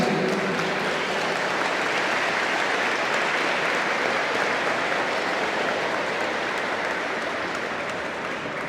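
Applause from an audience at a public religious debate welcoming guests; a dense, even wash of many hands clapping that holds steady for almost nine seconds and fades slightly at the end, with no talk over it.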